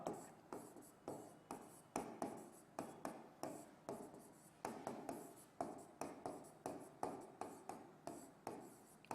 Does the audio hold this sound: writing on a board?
yes